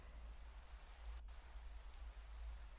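Steady rain falls in Minecraft, a soft, even hiss of drops with a low rumbling undertone, continuous and unbroken throughout.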